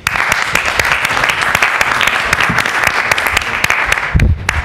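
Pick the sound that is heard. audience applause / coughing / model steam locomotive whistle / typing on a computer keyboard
audience applause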